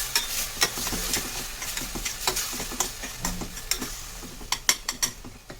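Medium-sized tomatoes frying in a pan for a Tirunelveli-style country chicken salna, with a soft sizzle under quick, irregular scraping and clicking as they are stirred, close and quiet, no talking.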